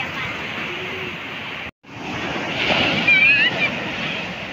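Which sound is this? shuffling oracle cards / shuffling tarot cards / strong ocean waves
strong ocean waves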